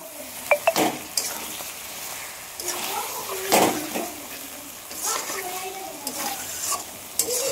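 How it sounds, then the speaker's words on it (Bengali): Fried potatoes are stirred into a mutton curry, a steady sizzle of frying broken by scraping ladle strokes and a few sharp clinks against the pot. A voice talks over it at times. "এইবারে ভাজা আলুটা দিয়ে দিব।"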